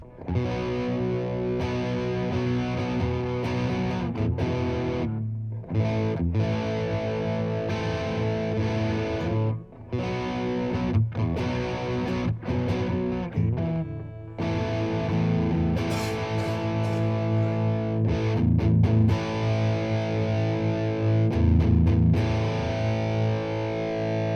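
An electric guitar plays continuously with heavy distortion, loud chords and notes ringing together without pause, and nobody speaks.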